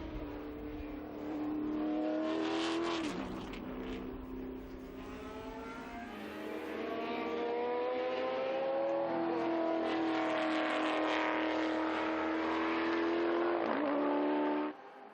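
A historic Mustang race car on the Estoril circuit roars past at high revs, its engine note climbing through repeated gear changes across about fifteen seconds, loud and sustained with no talk over it.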